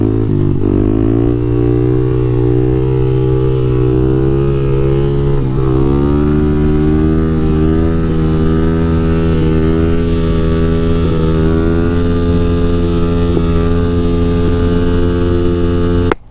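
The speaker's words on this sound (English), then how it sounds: "today I'm going to teach you how to wheelie on the KLX300 Supermoto" A 2022 Kawasaki KLX300 Supermoto motorcycle engine revs loud and close as the rider pulls a wheelie, its pitch climbing sharply and then holding a high, strained drone for many seconds.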